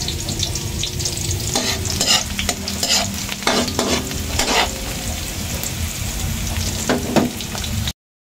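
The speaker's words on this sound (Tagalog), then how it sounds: "Igigisa ko po." Onion and garlic sautéing in a pan, a steady close sizzle with intermittent stirring scrapes, no talk.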